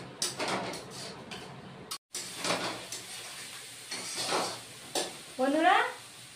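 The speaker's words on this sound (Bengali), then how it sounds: "দিয়ে এবার অল্প কষে নিব" Spices and fried potatoes for a tangra fish curry are stir-fried in a pan, a close soft sizzle under repeated scraping strokes of a spatula, with a brief break and a short squeaky scrape near the end.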